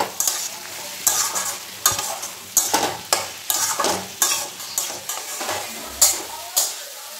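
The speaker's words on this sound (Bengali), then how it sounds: "টমেটো আর কাঁচা লঙ্কাটা দিয়ে দিলাম, সবজির সঙ্গে একসঙ্গে ফ্রাই করব।" Tomato, green chilli and mung dal frying with vegetables in a pan, stirred in regular strokes so that sharp scrapes and clatters rise over a steady sizzle, near and fairly loud.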